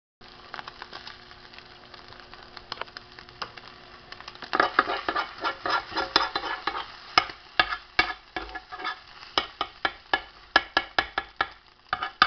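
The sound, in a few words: stirring up an egg to cook it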